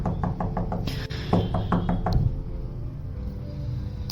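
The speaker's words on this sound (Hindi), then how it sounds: "आधी रात को फिर वही दरवाजे के खटखटाने से नींद टूट गई" Knocking on a door as a story sound effect: quick bursts of sharp raps in repeated groups, loud and close, over a low background hum.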